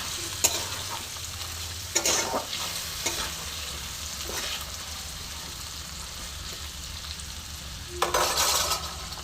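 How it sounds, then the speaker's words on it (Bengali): Taro (gathi kochu) with turmeric frying in a pan: a steady close sizzle broken by several sharp scraping stir strokes, with no voices. "দিয়ে আমি আবার এটাকে নাড়বো।"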